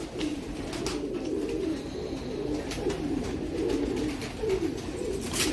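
Teddy pigeons coo in a loft, a low rolling murmur that rises and falls steadily and sits close by. Light rustles and faint clicks come through now and then, with no talk.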